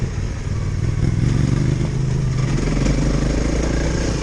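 A Honda CRF 300 L motorcycle engine pulls in third gear off road, giving a loud, close, steady drone with a rough throbbing beat under gusty wind noise.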